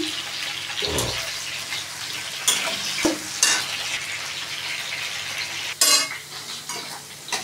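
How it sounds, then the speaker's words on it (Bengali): Pointed gourd (potol) fries in a pan for a vegetarian curry, a steady sizzle broken by several sharp scrapes and clatters as the pieces are stirred, close and fairly loud, with no talking. "বন্ধুরা দেখো আমার পটল ভাজা হয়ে যায়।"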